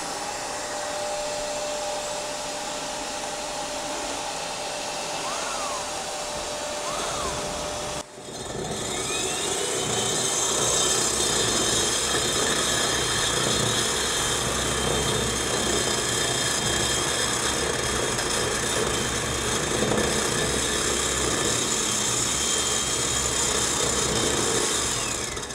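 A dry core drill with dust extraction running, a loud steady whining roar that briefly cuts out and then returns stronger and holds constant, with no talk.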